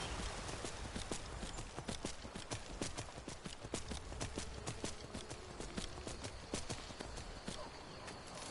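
Rapid rhythmic hoofbeats of a skeletal horse galloping in Skyrim, steady and fairly close, with a faint ambient background.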